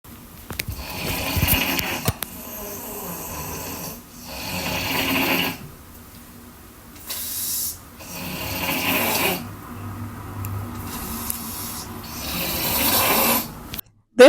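Loud, close snoring in slow rhythmic bursts every couple of seconds, each a rough rasping breath separated by brief quiet.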